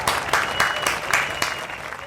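Studio audience applause for a teenage US Open singles winner, steady dense clapping with a few sharper bursts, moderately loud throughout, with voices mixed in beneath.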